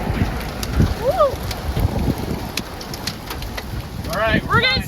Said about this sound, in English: we're getting some hail